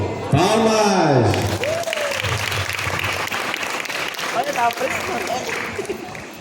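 A crowd applauds at a Catholic devotional class, with a dense wash of clapping running throughout while a voice speaks and exclaims over it.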